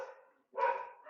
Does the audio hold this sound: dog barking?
yes